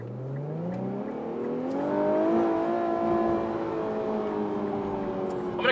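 An Infiniti Q50 S Red Sport accelerates on the road, its engine note climbing steadily in pitch through the gears with a smooth rising whine, heard from inside the cabin, loud and continuous with no talking.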